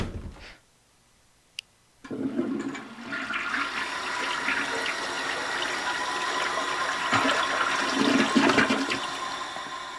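A toilet flush in the Nancy Drew mystery game The White Wolf of Icicle Creek: a short click, a brief pause, then a loud steady rush of gushing water that keeps running and swells toward the end.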